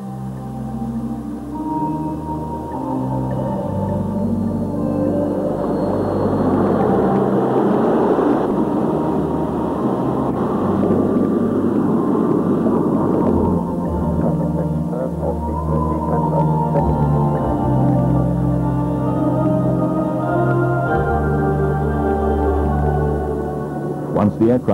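SAAF Silver Falcons aircraft engines running steadily after startup on the ground before taxi, a continuous loud drone with a swelling roar mid-clip and low tonal hum throughout, no talking.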